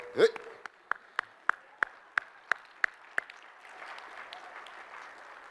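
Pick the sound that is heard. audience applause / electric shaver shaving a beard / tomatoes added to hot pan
audience applause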